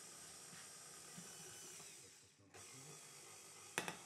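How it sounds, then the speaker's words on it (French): An electric hand mixer at medium speed kneads pizza dough of flour, salt and water, giving a steady whirring drone with a brief dip in pitch midway and a few sharp clatters near the end. "Et là je fais tourner mon batteur vitesse moyenne."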